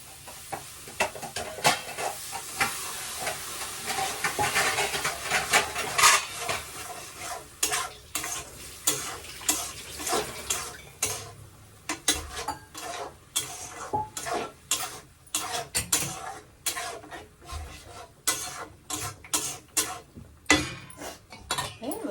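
Fish frying in a pan with a steady sizzle, punctuated by frequent sharp clinks and scrapes of a utensil stirring against the metal, close and fairly loud throughout.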